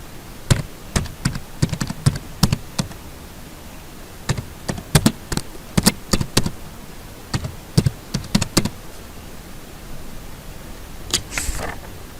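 Irregular clusters of crisp keystrokes on a computer keyboard, typed in quick bursts separated by short pauses, close and clear with no talking.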